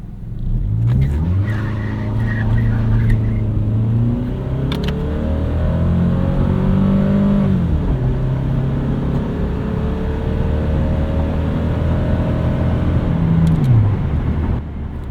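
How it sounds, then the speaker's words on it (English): A 25-year-old fourth-generation Toyota Camry spins its tires on a wet road, engine revs rising and falling in several long surges, loud and close with no talking. "it's impressive how easily this car lights up tires when it's wet outside"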